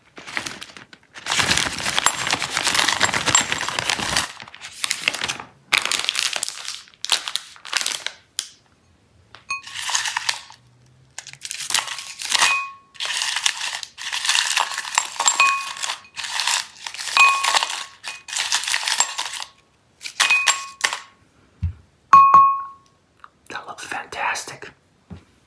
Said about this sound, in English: I'm gonna pour all the candies into this glass bowl so you can see.